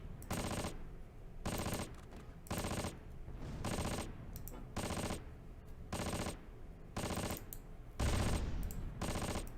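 Gunfire in the World War II tactics game Close Combat, Operation Luttich: loud bursts of automatic fire, about seven long volleys separated by short gaps, close and dominating.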